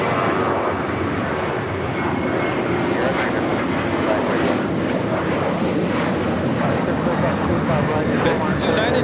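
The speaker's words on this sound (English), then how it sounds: "This is United Airlines 1395 taking off to Austin on the 737-800" A United Airlines Boeing 737-800 takes off from Los Angeles airport, its engines producing a loud, steady broadband roar that holds for the whole stretch, with faint talk underneath.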